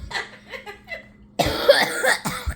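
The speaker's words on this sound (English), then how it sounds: "Cough, cough, cough." A girl coughs hard in a quick burst of harsh, loud coughs up close, following a few quieter breathy sounds.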